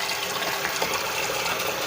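Water is poured steadily over food to soak it, a continuous rushing, splashing gush up close with no voices.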